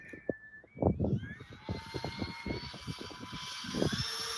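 An A-10 RC model jet accelerates and lifts off from a runway, its rising turbine-like whine climbing steadily in pitch, with a close, loud engine tone over several seconds and clattering mechanical noise underneath.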